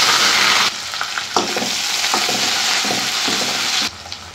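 Onions, green chillies and curry leaves fry loudly in hot oil in a kadai, a strong hiss that drops off suddenly twice, with spatula scrapes and light clinks between.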